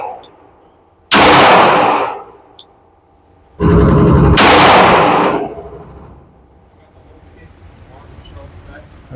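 Two loud Kimber 2K11 Eclipse pistol shots crack out at a shooting range a few seconds apart, each with a long echoing tail, followed by quieter background noise.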